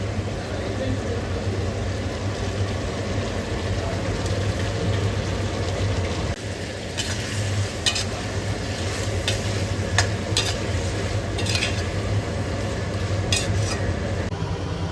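Marinated prawns are stirred into biryani masala in a pan, a steady sizzle with a constant low hum beneath and bright spatula scrapes and clicks growing more frequent in the second half.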